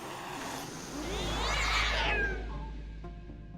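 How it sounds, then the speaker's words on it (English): Feral cats meow in a video game, a drawn-out, wavering meow rising and falling near the middle over a low steady hum. "There are feral cats seemingly guarding the door."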